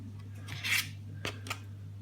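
A Leatherman multi-tool makes a few brief cutting snips and scrapes on material, close and quiet, spaced irregularly against a steady low hum.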